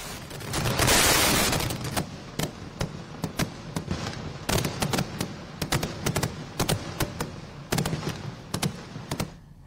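Fireworks at a display in Thrissur burst in a dense roar, then break into a rapid, irregular string of loud sharp cracks and bangs, some in quick clusters, with no voices.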